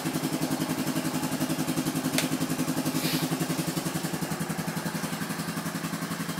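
A Honda 350 FourTrax 4x4 ATV idles steadily after a cold start, a close, even rapid putter with a faint metallic clatter throughout.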